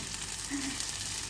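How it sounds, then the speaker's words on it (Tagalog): Chopped onion hitting a hot pan of oil gives a steady, close frying hiss that runs quietly through the short moment, with no talking. "Lagay ko na rin ang sibuyas."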